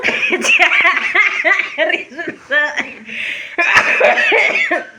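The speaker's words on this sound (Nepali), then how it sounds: "यसले खोकेपछि फेरि मेरो नि खोकी आउँछ" Several sharp coughs break through lively chatter and light laughter, close by, with voices talking throughout.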